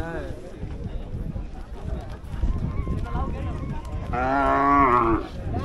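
At a horse and bullock cart race ground, a calf lets out a drawn-out moo near the end, over crowd noise and people talking.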